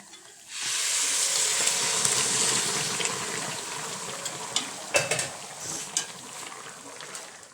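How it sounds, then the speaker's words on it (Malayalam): Pieces of duck go into a hot pressure cooker for a traditional Kerala duck curry, and a loud hissing sizzle bursts up, then settles while a spoon stirs with intermittent scraping clatters toward the end. "നല്ലപോലെ ഇളക്കി കൊടുക്കാം"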